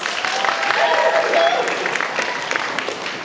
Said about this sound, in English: Everyone give yourselves a round of applause.